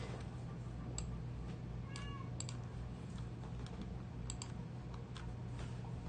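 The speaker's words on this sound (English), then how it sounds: "Can you guys hear my cat screaming at me?" A hungry house cat meows faintly in the background during a live stream, with soft clicks of computer keyboard typing running throughout.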